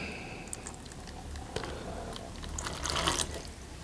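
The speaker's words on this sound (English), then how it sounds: "we put this water in here." Water is poured into a container, a continuous close splashing and trickling that swells toward the end, with no talking.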